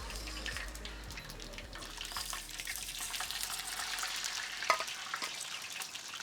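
Mustard and fenugreek seeds fry in hot oil with a steady, bright crackling sizzle and scattered pops, continuous and close, with one sharper spit near the end.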